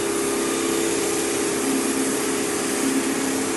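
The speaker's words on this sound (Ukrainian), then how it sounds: "Пила, вода, велика кількість. І його ріжуть цей мрамор." Wet saw with a diamond blade cutting marble under plenty of water, a loud, steady grinding whir with no breaks, heard up close.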